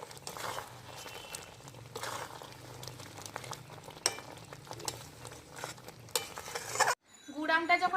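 A spatula scrapes and stirs a thick jaggery-and-mango mixture with roasted spice and a little salt in a pan, with a soft sizzle and rhythmic clatter. It pauses briefly near the end before resuming.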